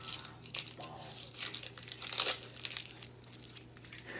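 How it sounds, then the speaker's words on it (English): Knife cutting an onion for picadillo in a home kitchen, a run of soft crinkly crunching strokes at an uneven pace, fairly close and moderately quiet, with no voices over it. "Now I gotta cut the onion."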